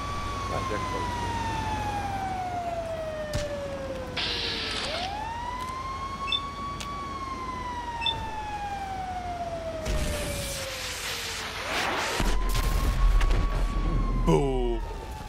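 A GTA 5 fire engine siren wails, sweeping up and down repeatedly, loud and continuous, with engine rumble and some background voices briefly mixed in.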